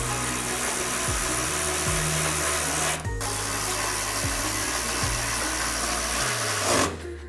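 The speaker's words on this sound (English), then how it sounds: "use this power tool and get it tightened up" A power tool whirs in short repeated bursts, the pitch dropping as each bolt tightens while installing a cat-back exhaust on a Jeep Gladiator, with a brief stop midway and another near the end.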